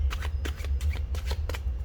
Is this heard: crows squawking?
no